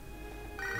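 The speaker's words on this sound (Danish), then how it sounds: "Ringer Lyra" A phone ringtone from an incoming in-game call in Pokémon SoulSilver, a steady electronic tone that brightens into a louder, higher chime partway through, playing alone without talk.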